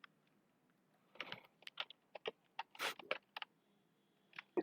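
Typing on a computer keyboard: irregular bursts of sharp, close key clicks, some clustered in quick runs and others isolated, separated by quiet pauses, no voices.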